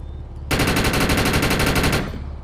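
New gun in the video game Defiance fires a rapid, loud burst of evenly spaced shots for about a second and a half, a sharp automatic rattle that stops abruptly.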